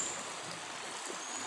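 A river in Asturias flows steadily with a broad, continuous rush of water, close and even throughout with no voices.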